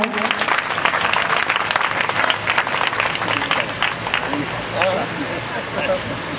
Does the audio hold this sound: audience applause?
yes